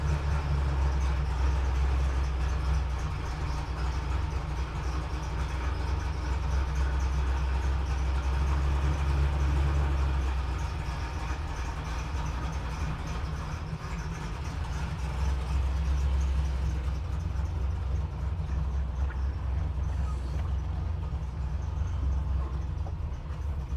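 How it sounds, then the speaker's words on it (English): A 1969 Camaro RS Z/28 V8 engine runs at idle, giving a steady, deep, rumbling drone close by that holds throughout, with slight swells in loudness and no talking. "Do you mind if we start it up? Can we hear it run?"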